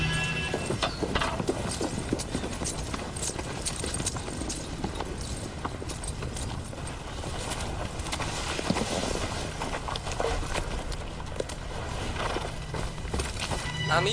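Horses with riders approaching, a steady rolling clip-clop of many hooves with occasional neighs, loud and continuous, with voices talking over it.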